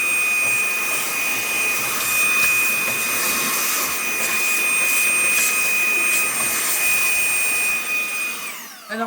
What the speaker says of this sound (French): Je vais plutôt aspirer.